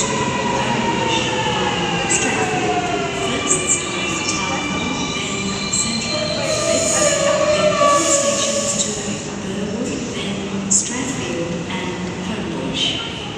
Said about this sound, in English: Homebush via Strathfield service arriving into platform 5.